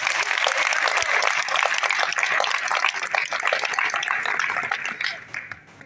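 A crowd at a book launch in French-speaking Africa applauds and cheers, dense loud clapping with shouts sustained for several seconds before tapering off at the end.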